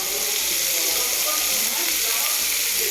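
Food sizzles and crackles in hot oil, a dense, continuous hiss that stays at an even, fairly loud level.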